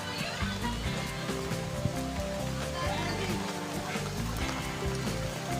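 Steady rain falls outdoors during a shabu shabu cookout, a dense hiss of drops on surfaces with no breaks, moderately loud and close.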